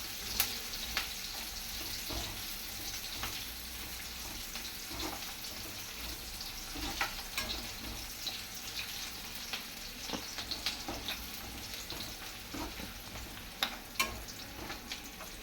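Chopped onion sautés in a pan over a lowered gas flame, browning to a reddish tint, giving a steady close sizzle broken by scattered clicks and scrapes as it is stirred.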